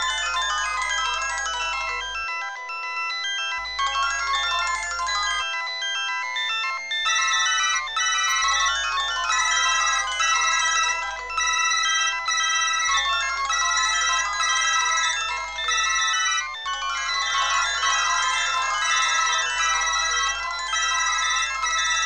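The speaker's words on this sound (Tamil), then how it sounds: "சார் செல்போன்லாம் அடிக்குது சார்." A cell phone ringtone plays a loud, bright electronic melody in a Tamil TV serial scene, its phrase repeating in regular cycles with brief pauses between.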